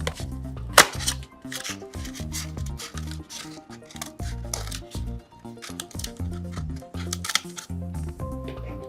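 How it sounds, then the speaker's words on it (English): Scissors snip through styrofoam in a steady run of crisp, close cuts with squeaky, crunchy texture, repeated over several seconds. "You can just use your scissors, and styrofoam cuts pretty easy"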